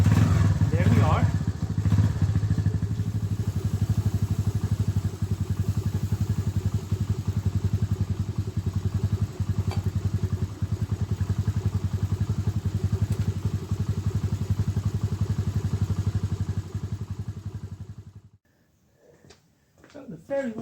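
A Mash Fifty motorcycle engine runs steadily at a close, loud idle-like putter for about eighteen seconds after starting, then cuts out, leaving brief faint clatter.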